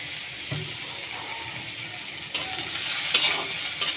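Water lily stems and shrimp are stirred in a hot pan, producing a continuous sizzle with a few sharp scrapes and clacks of the spoon, close and with no talking.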